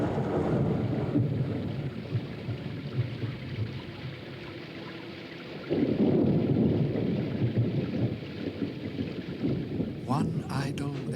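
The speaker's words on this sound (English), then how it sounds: "One idle and rainy day" Rumbling thunder over steady rain in a 1979 drama, a low continuous roll that swells louder midway, with a brief burst of voices near the end.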